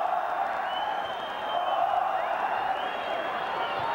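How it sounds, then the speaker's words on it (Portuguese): Large football stadium crowd at a 1999 Brazilian league match between Palmeiras and Corinthians, thousands of fans chanting a sustained, roaring olé that swells and holds steady throughout without a clear break. "E a torcida volta a gritar olé"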